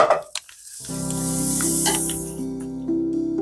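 A tablespoon of butter sizzling as it hits a warming frying pan, a bright steady hiss rising after a brief silence and holding, with a low hum underneath, close and continuous.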